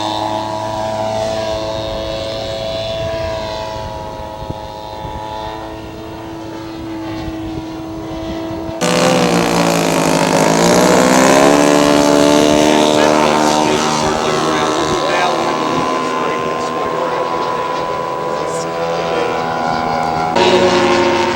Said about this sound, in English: Gary Parenti flying his aircraft he flew at the World Championships in Sweden